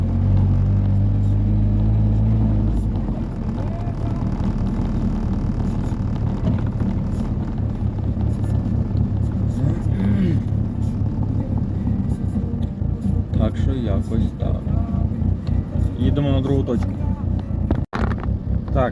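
A GAZelle light truck drives through a city centre between cargo loading stops, its engine rumbling steadily up close while someone talks over it much of the time.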